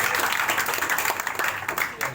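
An audience claps steadily at a maths toppers prize distribution for school students, a dense, continuous burst of applause that fills the short moment, with a voice faintly mixed in.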